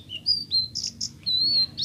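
A blue-crowned cochoa, kept as a sitrun cage bird, gives a run of bright, clear whistled chirps at close range, short notes alternating with longer sustained ones over a faint low background hum.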